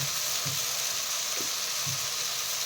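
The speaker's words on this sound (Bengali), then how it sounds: "মশলাটাকে সুন্দরভাবে কষিয়ে নিতে হবে" Ground spice masala fries in a pan with a continuous, fairly even hissing sizzle, marked by a few soft low knocks from stirring.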